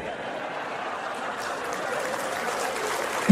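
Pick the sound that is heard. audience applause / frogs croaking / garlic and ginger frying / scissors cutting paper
audience applause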